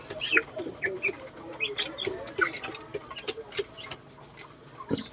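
Indio Gigante chickens in a backyard coop cluck and call in short scattered bursts, with a few sharper squawks over a steady low background.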